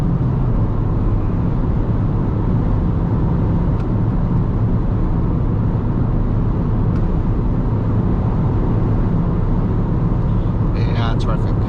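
An Alfa Romeo MiTo cruises at high speed on the Autobahn, heard from inside the cabin as a loud, steady low engine and road drone with wind noise, continuous throughout.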